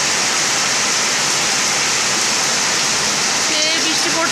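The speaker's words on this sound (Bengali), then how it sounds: "এই দেখো বন্ধুরা কি বৃষ্টি পড়ছে" Heavy afternoon rain pours down steadily in a dense, even hiss that fills the whole clip with no break.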